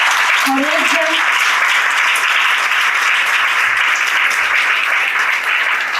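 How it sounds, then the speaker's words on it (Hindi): A large church congregation claps loudly and continuously in a dense wash of applause during a Sunday service, with a brief voice heard near the start. "प्रभु को बहुत जोर से धन्यवाद की ताली देंगे"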